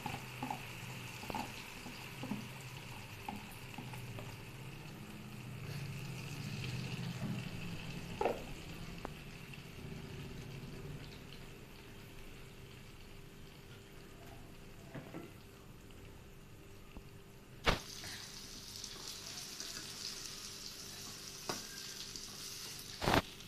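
Beaten egg and onion mixture frying in hot oil, a steady soft sizzle throughout with occasional light scrapes and clicks of a utensil, fairly quiet and close, no talking.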